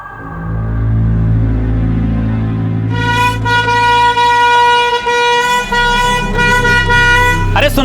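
A vehicle horn blares loudly and continuously in traffic over a deep engine rumble, with the tone thickening partway through as another horn joins, and voices shouting in the background.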